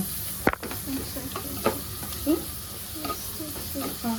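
Tomatoes sauté in a pan with a low, soft sizzle, broken by a sharp clatter of a utensil and scattered stirring clicks and scrapes, close and fairly quiet.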